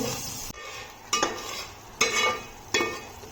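Spice paste being stirred into onions and tomatoes frying in a pan for mushroom biryani, with a steady sizzle broken by four sharp scraping clatters of a spoon against the pan at regular intervals.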